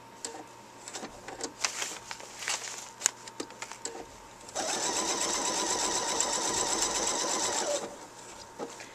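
PFAFF Expression 4.0 sewing machine with a 9 mm open toe foot sewing a blanket stitch applique: scattered clicks and short whirs, then a steady, close motor hum for several seconds before stopping.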